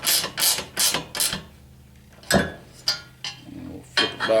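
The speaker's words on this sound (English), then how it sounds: "I love these little gear wrenches." A small gear wrench ratchets bolts snug on a 1985 Chevy K10 under restoration, giving several quick bursts of clicking, then a pause and a few sharper metallic clinks.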